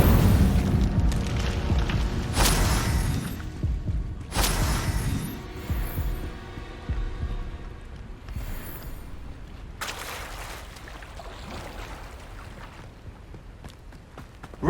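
Incendio fire spell cast repeatedly in Hogwarts Legacy, heard as loud booming whooshes that burst at intervals over a dense, rumbling game soundscape.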